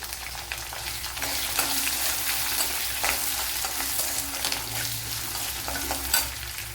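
Garlic cloves, a small piece of ginger and three green chillies frying in oil in a pan, producing a bright, continuous hiss and crackle with intermittent stirring clatter, near and unbroken, no speech.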